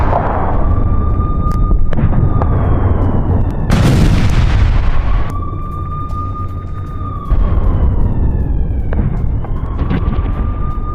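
Missile strikes land on Tel Aviv: several deep booms and cracking blasts go off at intervals while a steady air-raid siren wails over a low rumbling background.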